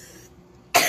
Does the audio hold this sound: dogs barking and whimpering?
no